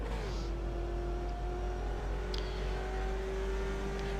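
Race car engine in a racing game at Road Atlanta, a steady sustained drone that rises slightly at the start as it accelerates onto the straight, holding a constant pitch throughout.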